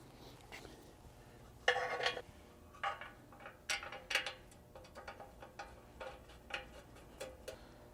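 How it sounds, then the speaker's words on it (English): Bumper mount bolts on a vehicle are tightened with a ratchet, bursts of quick clicking pawl strokes coming in short irregular runs, fairly close and moderately loud. "you can tighten those bolts down"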